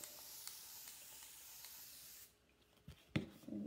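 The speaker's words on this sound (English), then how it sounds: "I'm gonna just spray that." A hand spray bottle misting water onto a chalk-paste stencil project, a steady hiss lasting about two seconds, followed by quieter handling and rubbing noises close by.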